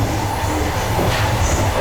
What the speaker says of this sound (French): C'est la première fois que je prends un train comme ça.